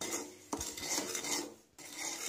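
Semolina stirred in a pan over a low flame, a steady close scraping and rasping of utensil against the pan with short clinks, continuing almost without a break.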